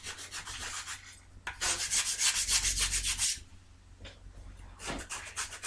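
Sandpaper rubbed over a surface with a 3D-printed sanding tool, a close, steady scratchy rasp in back-and-forth strokes, louder in a sustained burst midway, with no talk.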